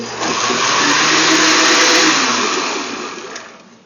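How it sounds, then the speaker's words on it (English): An electric blender buzzes steadily as it whirs through a healthy mocha smoothie, a loud, sustained motor whine that builds quickly and then eases off toward the end, with no talking. "We'll pop the top on the blender and give it a buzz."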